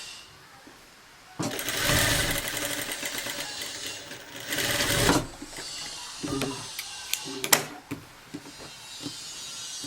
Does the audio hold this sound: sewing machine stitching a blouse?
yes